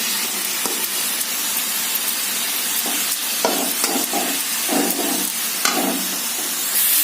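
Chicken sizzles steadily in a hot pan while a utensil scrapes and stirs in irregular strokes, close up, with no talking.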